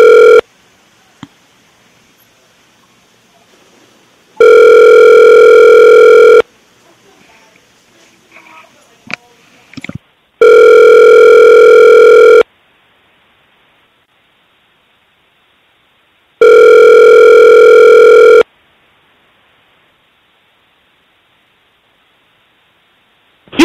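A telephone rings repeatedly during a call, three loud, evenly spaced electronic ring bursts about two seconds each, separated by quiet gaps with faint line noise.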